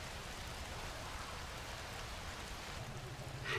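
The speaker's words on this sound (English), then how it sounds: "Let's check out and see how the rain's doing." Faint, steady rain ambience plays as background during a Shadowrun tabletop role-playing session, an even wash of hiss with no speech.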